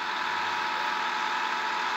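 A John Deere 7230R tractor engine runs at a steady idle, a constant close mechanical drone with a faint rattling vibration and no voices.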